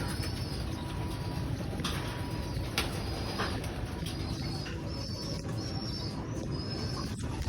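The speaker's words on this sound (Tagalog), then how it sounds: "kalapati rin." Pigeons coo softly in the background, with occasional wing flaps and chirps, over a steady noisy ambience.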